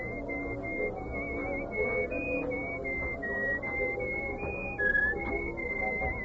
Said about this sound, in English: you were whistling our tune, so I thought you were expecting me